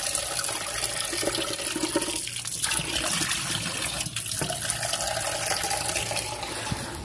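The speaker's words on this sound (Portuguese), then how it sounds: "vamos botar água, lavar aqui" Tap water runs continuously into an empty container being rinsed in a home kitchen, a steady close splashing with a couple of brief gurgling shifts as the flow hits the vessel.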